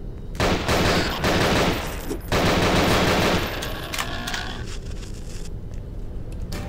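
Rapid automatic gunfire from Nightmare House 2, loud bursts of shots that start and stop over several seconds, then fade into a lower rumble.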